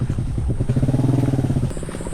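A small water pump engine chugs nearby with a rapid, pulsing putter, steady and loud, its rhythm wavering slightly before dropping off.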